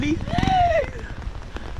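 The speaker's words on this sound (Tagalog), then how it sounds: "Ulan." Rain drums steadily on a surface and grows heavier, with a voice rising briefly over it.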